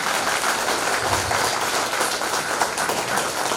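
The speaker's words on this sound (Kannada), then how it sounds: "ಯಕ್ಷಗಾನ ನಿಮಗೆ ಇಷ್ಟವಾದರೆ ಜೋರಾದ ಒಂದು ಚಪ್ಪಾಳೆಯೊಂದಿಗೆ" Audience applause at a Yakshagana performance in Pune, a dense, steady wash of many hands clapping, loud and sustained with no pause.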